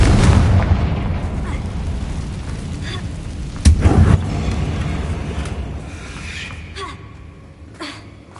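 A Confringo blast booms in Hogwarts Legacy, played on PS5 Pro, with a sharp burst near the middle that rumbles and fades over a noisy game backdrop, amid further scattered impacts.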